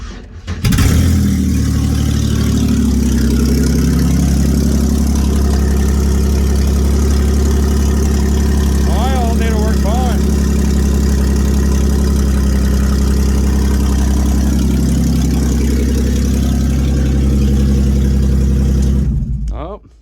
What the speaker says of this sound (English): there should be enough there to just get her to turn over and start and see what happens